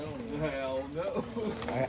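Tippler pigeons coo in a loft, soft rolling calls repeating close by, with a voice talking faintly underneath.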